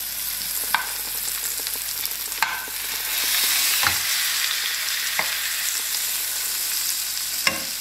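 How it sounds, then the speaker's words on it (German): Beef fillet searing in a hot pan, a loud steady sizzle broken by several sharp scrapes and knocks as the meat is moved, with no talking. "Und schön in die Pfanne geben. Maximal 2 Minuten anbraten von jeder Seite."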